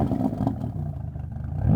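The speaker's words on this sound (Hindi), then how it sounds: "इसमें टोटल 4 एग्जॉस्ट आते हैं विच साउंड समथिंग लाइक दिस" A Ferrari Roma with a quad exhaust rumbles nearby at a low idle, a deep throbbing engine note with a slight rev swelling at the end.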